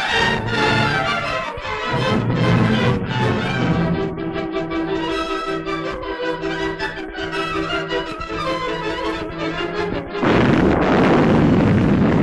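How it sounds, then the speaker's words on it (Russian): A demolition charge detonates, sending rumbling blasts and booming detonations that echo repeatedly over a dense, noisy background, ending in a heavy sustained roar. "Взрыв был сигналом штурма."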